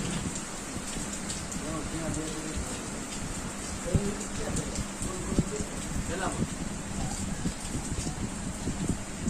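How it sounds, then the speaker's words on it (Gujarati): Steady rain pours down across the Botad district in Gujarat, a dense continuous hiss of drops with faint low thunder rumbling underneath, heard at even loudness throughout without voices. "બોટાદ જિલ્લામાં અનેક પંથકોમાં ગાજવીજ સાથે વરસાદ જોવા મળ્યો"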